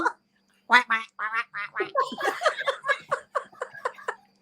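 A man imitates a duck with his voice, a run of nasal quacks coming in quick bursts at close range, loud and alone, with a few giggly laughing notes mixed in on a live talk show.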